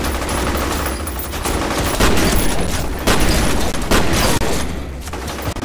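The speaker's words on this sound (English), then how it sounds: "Wow, I just shot him in half." Sustained loud gunfire from the first-person shooter F.E.A.R.: Perseus Mandate, dense rapid shots and bursts throughout, with no voices.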